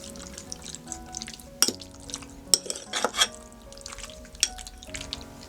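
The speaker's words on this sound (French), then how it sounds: "Mélangez." Beef with bell peppers and thick soy sauce being stirred in a pan, scattered clinks and scrapes of a utensil against metal, with a soft wet sizzle beneath and some sharp clanks near the middle.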